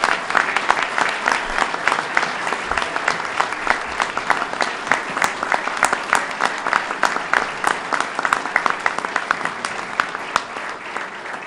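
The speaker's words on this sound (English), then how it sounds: "Let's give our first responders another round of applause." Round of applause from an audience honoring first responders at a flood recovery announcement, a dense, even clapping that carries on throughout at moderate loudness.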